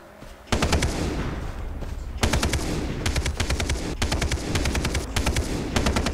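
Rapid automatic gunfire in the Far Cry 3 video game, loud and close, coming in repeated long bursts with short gaps between them and no talk.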